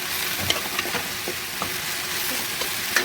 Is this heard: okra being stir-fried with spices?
yes